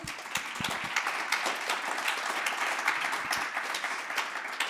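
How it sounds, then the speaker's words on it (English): A conference audience applauding a speaker on AI and learning and development, moderately dense clapping from a sizeable room, heard alone with fairly steady loudness throughout. "give her another round of applause"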